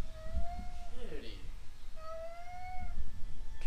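A cat meows twice, a drawn-out plaintive call and then a second one, close by in a garage where a Subaru Vanagon transmission is being assembled, mixed with a voice and background noise.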